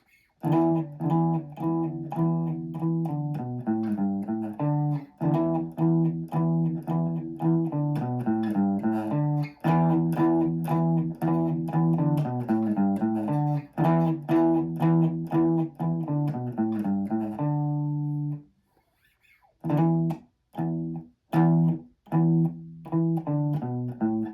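An electric guitar with distortion plays a hard rock riff, repeated choppy phrases close and loud, with a brief gap near the end before a few more stabbed notes.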